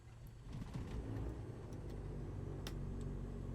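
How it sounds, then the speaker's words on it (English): An aircraft engine in a flight simulator cranks and catches into a low, steady rumble, with faint clicks and ticks over it and no talk. "Engine start."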